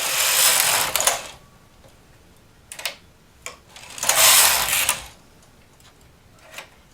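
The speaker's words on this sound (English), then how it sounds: "when I pull out another needle, it knits a row that is 1 stitch shorter." A domestic knitting machine carriage sweeps across short rows, bright rasping passes rising and falling in several separate strokes with clicks between them, moderately loud and alone.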